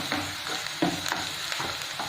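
Garam masala and coriander powder are stirred in a frying pan, giving a soft, steady sizzle with scraping strokes of a spoon against the pan, close and quiet, with no talking.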